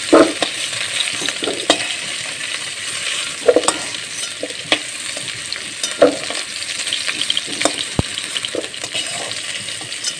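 Sliced banana stem frying in a pan, a steady bright sizzle broken by frequent scraping and clinking stirs against the metal, close and continuous with no talking.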